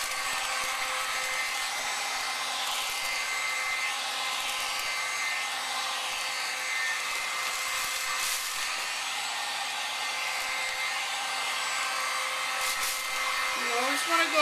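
A heat gun blows steadily and close by as it shrinks plastic wrap around an Easter basket, a continuous airy whir that holds for the whole stretch, with a short extra rustle near the end.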